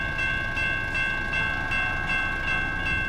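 A train passing in American Truck Simulator: a steady, loud rumbling rail roar with a sustained high whine running throughout, with no voices.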